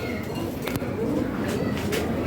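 Lahori Sirazi pigeons, a flock of select show-quality birds, coo softly and steadily in a low rolling murmur, with a voice talking over them throughout.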